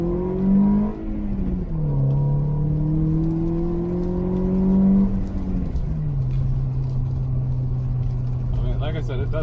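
A Toyota Corolla with full bolt-ons and performance solenoids launches hard in a 0 to 60 run, its engine note climbing loud and close, then dropping at each upshift before rising again.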